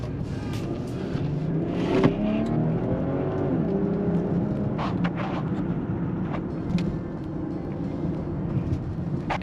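A BMW X7 SUV accelerates at about half throttle, the engine note rising steadily from inside the cabin with a low droning hum and road noise, heard alone without talk.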